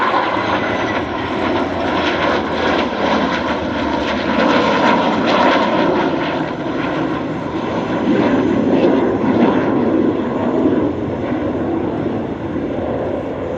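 An EA-18G Growler jet and a vintage Chance Vought Corsair warbird fly past at an airshow, a loud sustained engine roar that swells and fades slightly without stopping.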